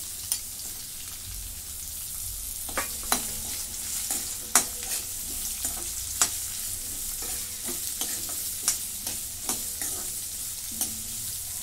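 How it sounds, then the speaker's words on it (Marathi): Onions sautéing in oil with cumin, star anise, cloves and cinnamon in a kadhai for paneer masala: a constant hiss of frying broken by sharp spatula clicks and scrapes at irregular intervals. "कांदा ना चांगला परतून घेते"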